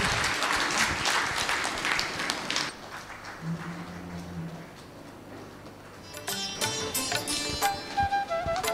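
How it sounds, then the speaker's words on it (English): Applause from an audience at a felicitation ceremony honouring a doctorate at Vedic Wellness University, fairly dense clapping for the first few seconds, fading to a quieter stretch, then picking up again in sharper, scattered claps toward the end. "please give Shri a big round of applause for this doctorate."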